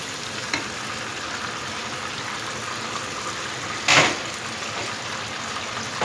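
Chicken with turmeric cooking in a kadhai over a high flame gives a steady, close sizzle and frying hiss throughout, with a brief louder burst of crackle partway through and no talk.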